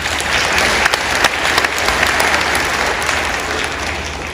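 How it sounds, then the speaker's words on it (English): Audience applause for musicians at a Christmas church concert, a dense sustained wash of clapping from a full crowd that stays loud throughout before tapering slightly at the end. "Let's hear a round of applause for all our wonderful musicians."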